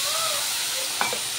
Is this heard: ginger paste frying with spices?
yes